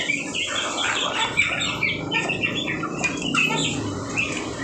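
Chickens cluck and chirp in a busy mix of short calls, close by, over a soft low background hum.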